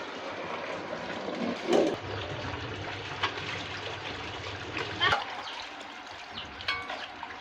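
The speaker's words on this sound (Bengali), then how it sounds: "তো এগুলো পর্যায়ক্রমে ধুয়ে নেবেন, ভালোভাবে পরিষ্কার করে নেবেন" Water running and splashing while raw crabs are rinsed, a soft trickle throughout with a few louder splashes and clatters, under a faint room background.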